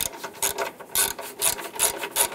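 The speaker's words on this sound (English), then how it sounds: "Just go ahead and torque down our 5 bolts on the top to 46 foot-pounds." Ratchet wrench tightening the top engine mount bolts on a 2008-2013 Nissan Rogue, a series of crisp, close clicking bursts in quick uneven strokes, alone without talk.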